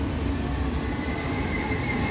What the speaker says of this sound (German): da kommt schon mein Regionalexpress